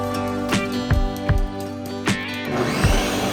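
A blender whirring through pineapple, mango and habanero salsa, a loud steady motor drone with repeated thumping knocks as the chunks hit the blades.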